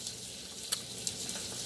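Almond-flour pancake batter sizzles in hot cooking oil in a pan, a steady close frying hiss broken by two sharp pops, with no talking.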